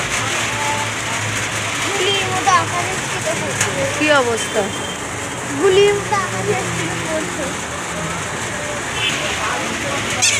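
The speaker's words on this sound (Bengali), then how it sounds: "আবার সঙ্গে বৃষ্টি শুরু হয়ে গেল।" Steady rain falls over a busy street market in Shantipur, a broad wash of hiss that runs the whole time beneath frequent nearby voices and passing chatter.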